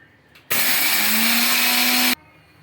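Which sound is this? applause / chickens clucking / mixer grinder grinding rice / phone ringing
mixer grinder grinding rice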